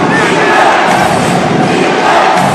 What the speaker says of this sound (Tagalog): And once again, the crowd here is energized.